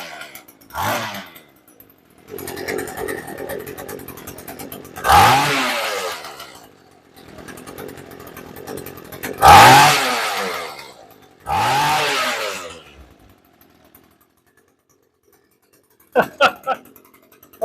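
A gas weed eater engine fitted to a homemade bicycle fires in several loud, rising bursts of buzzing revs, each fading back to a rough idle, with quiet gaps and a speaking voice between them.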